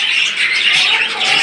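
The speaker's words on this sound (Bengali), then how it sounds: "আর এখানে রয়েছে দেখতে পাচ্ছেন অ্যাডাল কিছু অস্ট্রেলিয়ান ঘুঘু পাখি" Adult Australian doves calling in a caged bird-selling setting, a continuous close chorus of soft bird calls filling the brief moment with no talk.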